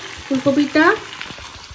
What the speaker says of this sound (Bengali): ফুলকপিটা এখন রান্না করছি।